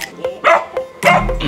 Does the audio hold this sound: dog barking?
yes